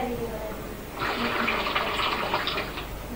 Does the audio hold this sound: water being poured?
yes